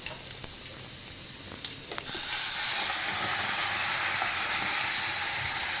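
Masala paste hits hot oil in a pan for an egg masala, giving a loud, steady hissing sizzle that swells suddenly and keeps crackling close up, with no talk over it.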